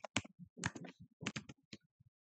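Quick typing on a computer keyboard into a search field, a close run of sharp, irregular key clicks in small clusters with brief gaps, quiet and without talking.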